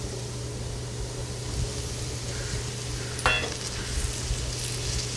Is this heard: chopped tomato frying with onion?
yes